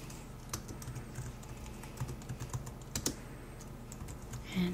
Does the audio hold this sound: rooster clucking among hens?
no